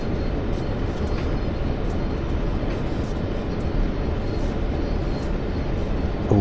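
Heavy freight train on the Clinchfield Railroad climbing a gradient in Train Sim World 2, a dense continuous rumble and rolling roar at steady loudness throughout.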